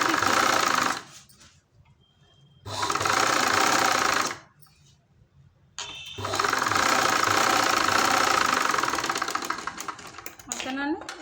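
A sewing machine runs in several bursts while stitching a folded hem for piping, its steady mechanical whir loud and close, stopping and restarting with short pauses between runs.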